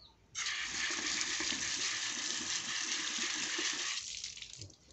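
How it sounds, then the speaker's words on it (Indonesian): Steady stream of tap water splashing into a sink as a kitchen knife is washed during sharpening, constant and close for about four seconds before easing off. "Kita cuci dulu."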